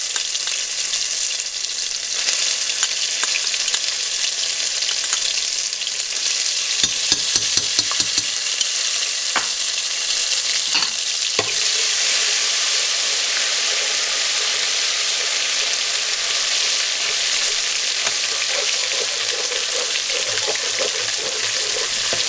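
A tablespoon of ginger paste fries in a hot pan, giving a continuous, fairly loud sizzle with brief bursts of crackle and stirring clatter partway through.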